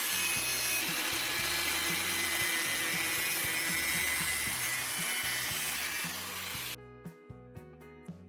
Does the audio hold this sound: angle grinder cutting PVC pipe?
yes